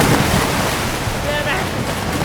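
Water in the Teardown video game, a steady rushing wash like surf and flowing water with broad wind-like noise, loud and continuous throughout.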